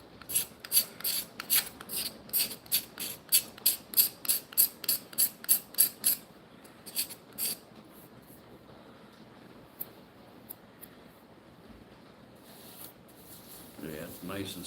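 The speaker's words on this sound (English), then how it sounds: "I've been scraping it, it's taking just a little bit off and almost leaving like a burnished finish." Maple bowl being scraped to a burnished finish, a steady train of rhythmic rasping strokes for about six seconds, then quieter scattered scrapes and handling noise, with faint talk underneath.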